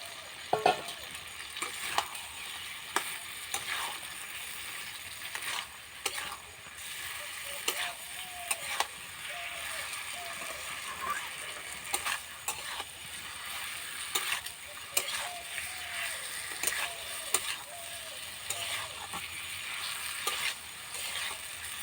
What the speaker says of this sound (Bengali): এবার এটাতে দিয়ে দেব ভেজে রাখা আলু, ফুলকপি।